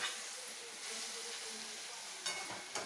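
Hot oil with chili tempering for an eggplant and spring onion bharit sizzles and crackles steadily, a bright frying hiss that swells briefly near the end, with faint stirring and no talk.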